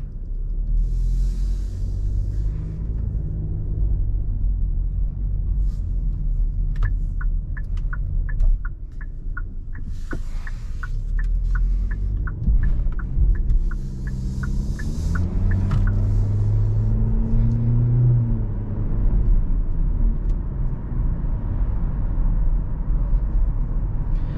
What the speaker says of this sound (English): let's go ahead and take this Elantra SEL on a drive and see how it does.